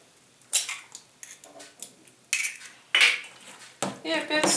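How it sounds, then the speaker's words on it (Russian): A spoon stirs apple pancake batter in a bowl after an egg is added. It makes a series of close, irregular clinks and scrapes against the dish, with short pauses between strokes. "И опять все хорошо смешиваем."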